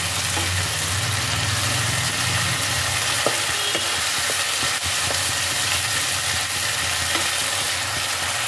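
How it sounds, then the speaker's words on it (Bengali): Tomato paste frying and being stirred in a pan for a matar paneer, a loud continuous sizzle with spatula scrapes and clinks over a constant hiss, no voices. "টমেটোর পেস্টটাকেও 2-3 মিনিট এভাবে নাড়াচাড়া করে ভালোভাবে কষিয়ে নিতে হবে।"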